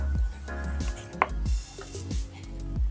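Steady knife chops through pork on a cutting board, about six firm thuds over a few seconds, close up with no talking.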